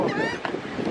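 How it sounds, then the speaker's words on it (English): Flock of seabirds calling and honking at the Galveston waterfront while grabbing shrimp off the ground, harsh repeated calls close by, mixed with wind and people talking. "Look at all them birds."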